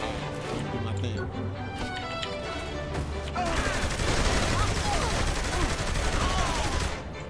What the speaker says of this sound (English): He threw grenades!